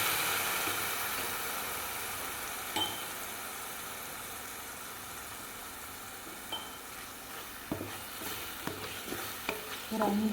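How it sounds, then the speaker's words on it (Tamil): Ground ivy gourd greens sauté in a pan with softened onion and asafoetida, giving a soft, steady sizzle with occasional scrapes and clinks from the stirring spoon, fairly quiet and without talk. "ஒரு 5 நிமிஷம் நல்லா வதங்கட்டுங்க கீரை."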